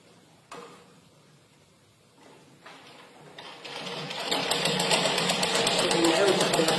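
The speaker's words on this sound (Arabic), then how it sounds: "نعاود نخيطها" A sewing machine stitches a child's fabric visor, starting with a few short bursts and then settling into a loud, steady, fast mechanical run close by.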